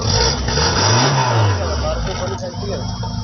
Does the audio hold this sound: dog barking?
no